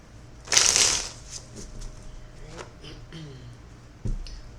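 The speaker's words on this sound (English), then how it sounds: "And final shuffle." A tarot deck is given a final shuffle, with a burst of riffling card noise near the start, then softer handling rustles and a light tap near the end, all close by.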